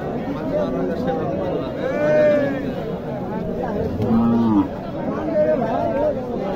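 A bony dairy cow lets out a couple of low moos amid the steady chatter of a busy crowd at the Mohadevpur cattle market in Naogaon, Bangladesh, with people talking nearby.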